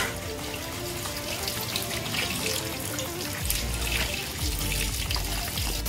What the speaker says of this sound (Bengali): তাহলে মাছগুলোকে ধুয়ে নিই